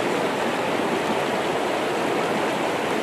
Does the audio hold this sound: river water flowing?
yes